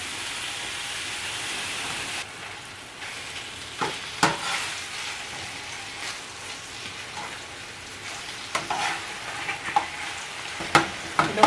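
Ground red meat (hamburger) browns in a pan for chili, a constant crackling sizzle broken by scraping stirs and sharper spatters that grow busier toward the end.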